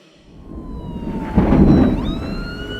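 An ambulance siren wails through heavy rain and bad weather, a rising and falling tone that grows louder toward the middle and then stays steady over a low rumble of storm noise.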